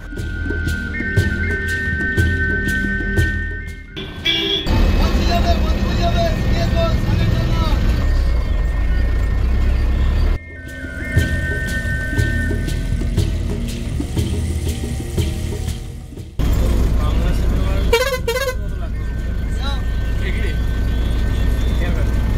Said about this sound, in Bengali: আমরা কালনা স্টেশনের রেলগেট থেকে বাস ধরেছি